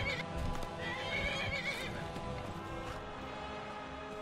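A horse in the Skyrim video game whinnies loudly while its hooves clip-clop, the neighing strongest early and the hoofbeats continuing under game ambience with no speech.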